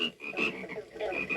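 Frogs croak as a sound effect on a 1974 Halloween story record, several rhythmic, rasping croaks in quick succession, moderately loud with no talk over them.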